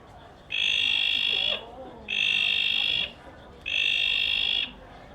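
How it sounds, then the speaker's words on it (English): Bleating tree frog, a frog native to the Sydney region, gives three long, loud, steady nasal bleats of about a second each, evenly spaced, over a faint noisy background. "This is a bleating tree frog."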